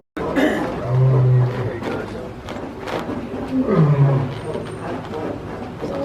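Lion at Disney's Animal Kingdom roaring in a series of deep, grunting bellows, loud and fairly close, with people talking and reacting quietly around it.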